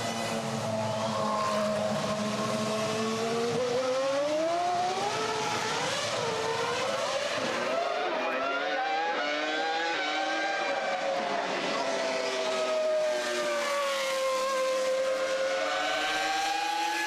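A Formula 1 race car on a wet track, its engine a loud whining drone that rises and falls through gear changes for the whole stretch, with the hiss of spray underneath.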